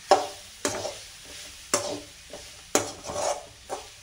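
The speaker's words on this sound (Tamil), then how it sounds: "ரைஸ் ஆட் பண்ணிட்டு அதை மிக்ஸ் பண்ணிடுவேன்." Cooked rice being stirred into sautéed amla (Indian gooseberry) in a pan, with four sharp scraping strokes of a spoon against the metal, each trailing off into a soft rustle and faint sizzle, close and without voices.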